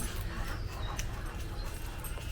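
A dog whimpers and pants steadily at a state park campground, fretting while its owner climbs a tree, the sound close and continuous against a dense, noisy outdoor background.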